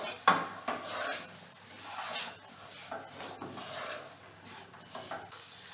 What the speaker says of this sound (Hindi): अभी इसमें लगभग 250 ग्राम जितनी गवार ऐड कर लेना है और मिक्स कर लेना है।